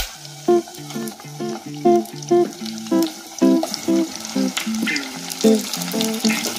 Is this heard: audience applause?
no